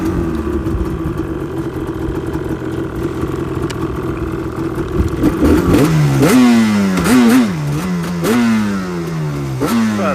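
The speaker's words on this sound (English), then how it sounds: "Yamaha Banshee 350 twin" A stock Yamaha Banshee 350 twin-engine quad idles roughly, then revs hard in repeated rising and falling blasts, loud and close, with no talking.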